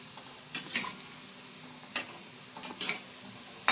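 Semolina gulab jamun fry in hot oil over low-to-medium heat, a faint steady sizzle broken by several short bursts of bubbling and spoon-stirring clatter, with no talking.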